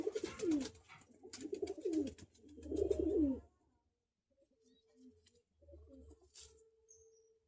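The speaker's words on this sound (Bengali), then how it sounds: "এটা হচ্ছে কালশিরা পায়রা।" A Kalshira pigeon coos nearby in several throaty, rolling phrases, loud at first and then fainter, with short pauses between calls.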